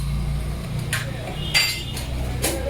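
Metal clinks and clanks from fitting clutch plates and a pressure plate on a Bajaj Boxer motorcycle, a few sharp separate taps over a low steady hum in a workshop.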